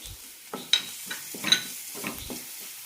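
Spoon stirring ground pepper, garam masala, chili powder and turmeric into ginger garlic paste in a pan for samosa filling, a few soft scraping strokes with a faint sizzle, close and alone.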